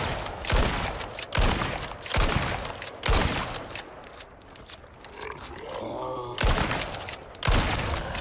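Repeated bursts of gunfire strike the Abomination creature in the survival game Icarus, with about seven loud, evenly spaced volleys alongside creature grunts and roars.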